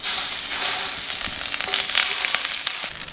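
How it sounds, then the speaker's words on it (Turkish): Kokoreç sizzles and crackles steadily over a charcoal mangal grill in Bursa, a dense, close, continuous frying hiss with scattered pops and light stirring scrapes, with no voices. "Bunları da bir koyalım, kızartalım."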